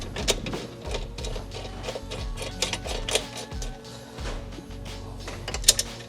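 A ratchet clicks in short bursts of rapid ticks while intake hardware bolts are tightened on a BMW G87 M2 during an Eventuri intake install, close and crisp with pauses between strokes and no talking.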